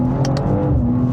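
A modified 2025 BMW M2 LCI rated at 580 hp drops to third gear and pulls hard to overtake, its engine giving a loud, close, steady droning roar with no voices over it.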